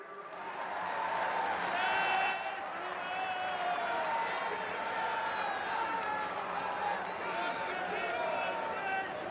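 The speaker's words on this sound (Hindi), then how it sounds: "तालियों का जय घोष रुकना नहीं चाहिए।" A large crowd applauds steadily at the launch event for India's first hydrogen train in Haryana, a continuous wash of clapping under an amplified announcer's voice.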